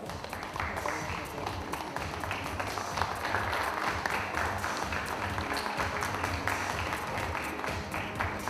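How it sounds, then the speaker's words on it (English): An audience at a conference session applauds the panelists with steady, moderately loud clapping that fills the room for several seconds, with scattered voices mixed in. "Ladies and gentlemen, let's have a big round of applause."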